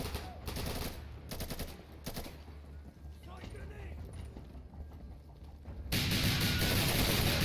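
Gunfire in the video game Insurgency: rapid bursts of automatic shots at the start, then scattered distant fire, ending in a sustained loud roar of shooting.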